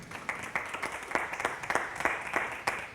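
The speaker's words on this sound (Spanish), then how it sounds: "Fuerte el aplauso para Diana Carolina" An audience at a poetry event breaks into scattered, fairly sparse applause, individual claps distinct and moderately distant in a room, with no voices over it.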